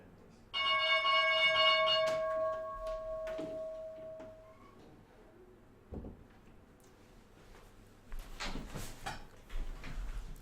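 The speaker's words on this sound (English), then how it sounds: "All right, opening bell." Opening bell for a stock market session on a trading live stream: a loud ringing bell tone with sustained harmonics that fades over a few seconds, followed by faint clicks and room noise.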